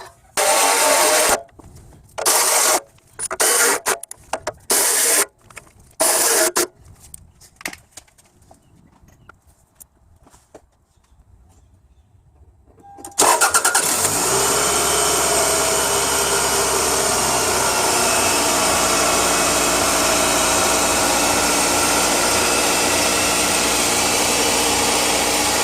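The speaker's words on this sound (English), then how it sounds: "Exhaust leak." A 2.2L 5SFE engine in a Toyota Camry runs with an exhaust leak after downpipe and catalytic converter work, a loud steady drone starting about halfway through, preceded by choppy bursts of noise and near-silence.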